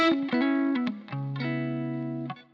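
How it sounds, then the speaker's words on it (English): An electric guitar plays a short run of sustained notes through a custom Red Gizmo fuzz pedal set for a scratchy, tight, distortion-like tone. Each note rings bright and buzzy, close and alone, and the last one cuts off. "you notice it's kind of quite scratchy and tight. Almost like just a distortion, really."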